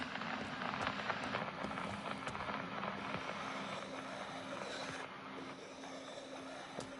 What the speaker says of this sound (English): I kind of preferred the rain ambience noises.